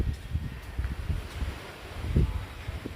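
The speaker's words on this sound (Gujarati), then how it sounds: "વાહ પવન જ એટલું બધું છે ને" Gusty wind sweeps across a rooftop as a storm with rain begins, heard as a low, continuous buffeting rumble that swells in short gusts; no one speaks.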